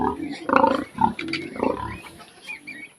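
One-month-old piglets grunting and squealing close by, a few loud short bursts followed by softer snuffling grunts.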